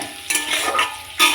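Meat frying together with potatoes and onions in a pan, a brief sizzle broken by scraping stirs, close and fairly loud.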